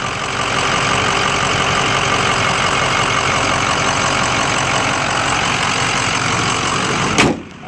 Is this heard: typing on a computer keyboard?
no